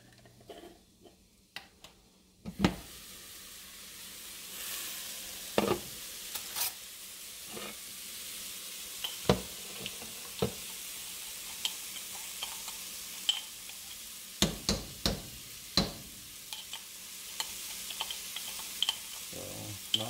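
Chili cooks in a pot with a soft continuous sizzle, broken by frequent sharp clicks and scrapes of a utensil stirring against the pot, close and moderately loud, no talking.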